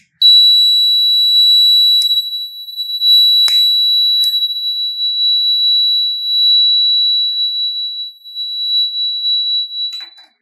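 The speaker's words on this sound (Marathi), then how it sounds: "वाव, किती मस्त अलार्म वाजतोय बघा आणि दिसतोय छान." A homemade bimetallic strip fire alarm, set off by a lighter's flame, rings with a loud, steady high-pitched electronic tone, broken only by a few brief clicks and taps.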